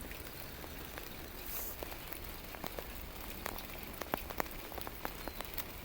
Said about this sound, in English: this one is where I think it's going to sound bad because of the rain tapping on my coat